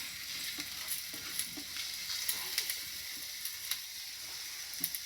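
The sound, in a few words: frying Byadgi chillies, cumin and cloves in a pan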